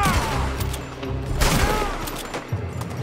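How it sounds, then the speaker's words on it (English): Rifle shots in the video game Red Dead Redemption 2, a few sharp reports with ringing tails amid game ambience. "Man, I like this gun. One shot only."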